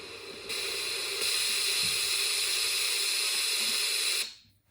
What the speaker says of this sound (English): And the brown noise.